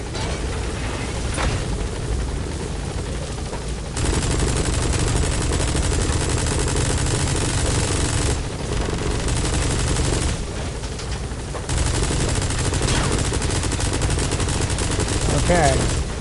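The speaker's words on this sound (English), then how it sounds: "It's taking notice of the bullets flying in his direction." Sustained gunfire from the Metal Gear Solid V: The Phantom Pain video game, dense bursts and loud continuous shooting with brief lulls, a speaking voice running over the gameplay.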